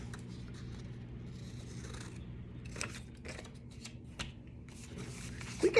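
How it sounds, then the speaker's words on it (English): Scissors snip through paper, cutting rectangles along drawn lines: a few quiet, crisp cuts and rustles spread across a hushed room, close and faint without talk. "rectangles out right on the line. Take them and cut them again."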